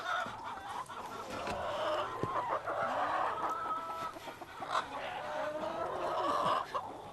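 Chickens in a backyard pen and coop complex clucking and murmuring continuously nearby, several birds overlapping with sharper squawks and calls rising now and then.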